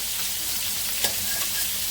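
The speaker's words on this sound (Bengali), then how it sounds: "আলু দিয়ে মাছ রান্না হবে পেঁয়াজের সঙ্গে একটু ভেজে নিচ্ছে" Onions sizzling in a pan with oil, frying ahead of a fish and potato curry, a steady close hiss with a couple of faint stirring clinks and no voices.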